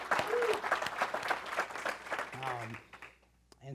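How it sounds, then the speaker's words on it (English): A church congregation applauds, a broad wash of clapping mixed with talk and a brief tonal voice, fading toward the end before a short final burst. "You can clap for them, sure."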